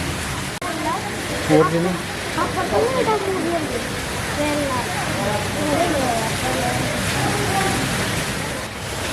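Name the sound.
artificial waterfall in aquarium rainforest exhibit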